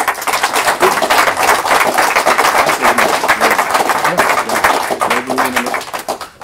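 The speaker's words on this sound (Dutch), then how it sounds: "Wij trekken deze eraf en dan horen wij een groot applaus van alle bezoekers." Visitors at a presentation of the Bildtse Canon break into applause, a dense, loud crowd of clapping that swells and fades unevenly, with a few voices mixed in.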